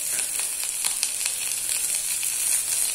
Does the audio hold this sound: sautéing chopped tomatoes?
yes